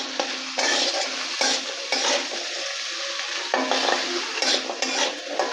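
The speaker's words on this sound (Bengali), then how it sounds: "আলুগুলো লাল করে ভেজে তুলব।" Potatoes with salt and turmeric frying in oil, a loud, close, steady crackling sizzle broken by repeated bursts of stirring and scraping in the pan, no one speaking.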